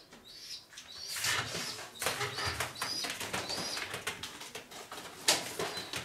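Racing pigeons coo softly and wings flap in bursts in a loft, with scattered chirps and rustling around them, fairly quiet and close by.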